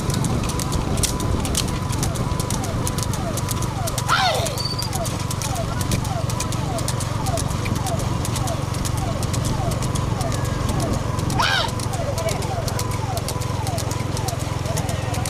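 Bulls in a big single-bull cart race at Madhavaram, Chennai, pound along in a steady, rapid drumming of hooves with a rattling cart, continuous and loud, with two sharp whistles cutting through and voices in the background.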